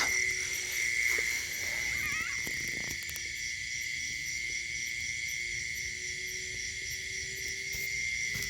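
A large frog croaks at night beside a house, its calls set against a steady high chorus of insects and other frogs, with no voices present.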